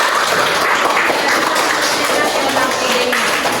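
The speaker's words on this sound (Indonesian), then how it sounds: "Beri tepuk tangan, ya." A classroom group applauds a first team of chemistry students after their presentation, a dense, steady wash of clapping that stays loud and even throughout with no pauses.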